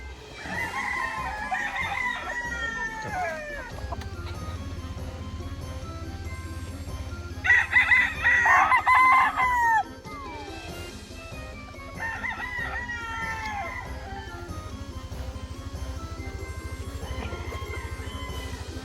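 A young stag gamecock from an early bird derby crows several times in distinct cock-a-doodle-doo calls, one loud and close, over a low steady background rumble.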